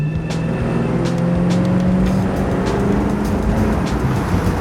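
A factory 350 V8 in an HQ Statesman runs steadily nearby, holding a deep, even engine note with no voices over it.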